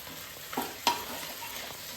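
Vegetables for a vegetarian Thai curry frying in oil in a pan over a medium flame, giving a steady low sizzle with a couple of brief stirring scrapes and clicks close by.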